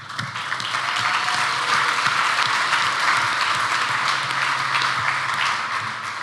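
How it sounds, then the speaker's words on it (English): Conference keynote audience applauding the founding partners, a broad wash of clapping that swells and holds steady at moderate loudness, heard from some distance in a large hall. "I want to give a quick applause to all the founding Blocks partners"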